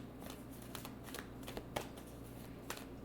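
Wisdom of the Oracle cards handled and shuffled close up, a quiet run of soft riffling and tapping bursts.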